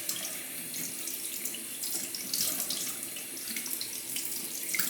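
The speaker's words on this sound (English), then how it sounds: "gonna rinse out the stones" A water tap runs steadily while sharpening stones are rinsed under it, a close, continuous splashing rush with slight shifts in intensity as the stones move through the stream.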